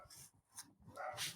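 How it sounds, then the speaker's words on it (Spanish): A small dog gives several quick, faint yips and barks in short bursts, heard from nearby in a quiet room. "perdón el ruido de mi perrito"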